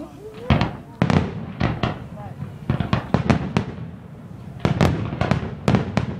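Fireworks at a Plymouth August display burst in a rapid series of sharp booms and cracks, some clustered close together, with crowd voices and chatter in between.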